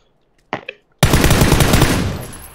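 Loud sustained burst of automatic gunfire in a video game starts abruptly after a brief quiet moment, rapid shots rattling on for about a second and a half before easing slightly.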